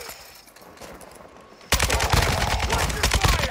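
A Kastov 762 assault rifle firing in Warzone at Vondel Park: after a quiet moment, a sudden burst of rapid automatic shots begins and keeps going, loud and close, with rhythmic sharp reports.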